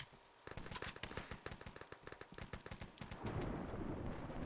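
Distant, faint bursts of rapid gunfire during a competitive Wolfenstein: Enemy Territory match, with a steady crackle of many overlapping shots over a dense, noisy background.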